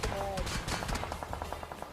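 AWM sniper rifle fire in a mobile battle-royale game, heard as a sharp shot followed by a quick run of rapid gunfire bursts, all fairly loud in game audio.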